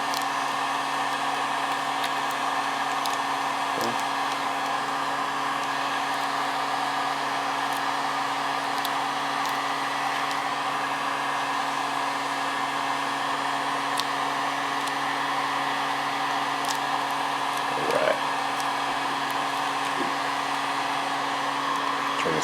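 A heat gun blows steadily while heating a vinyl decal wrap on a smartphone, a constant airy whoosh with a faint motor whine and a few light handling clicks.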